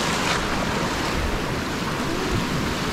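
A swollen river in the hamlet of Las Delicias, running high after flooding, rushes in a loud, constant roar of churning water, heard close and with no talking.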